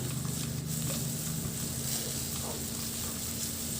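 Garlic, ginger and onion sizzle steadily in a hot pan for Filipino-style milkfish cooking, a close, even frying hiss with no pauses and no talk.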